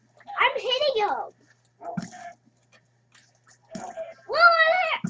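A dog in a video game barks and yelps in short, close, loud bursts separated by gaps, with a whimpering, voice-like tone.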